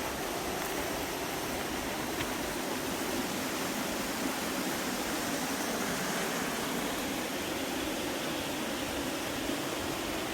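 Steady creek water flowing below a rear patio at a monk's cave home, a continuous broadband rush with no breaks, moderately loud and close, with no talk over it.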